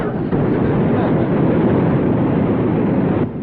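A vehicle engine races hard with its wheels spinning in mud, a loud, continuous low roar that holds steady before cutting off abruptly near the end.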